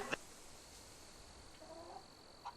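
Chicken from a Fable 3 chicken race giving faint, sparse clucks, a soft cluck at the start and brief calls near the end over a steady low background hum.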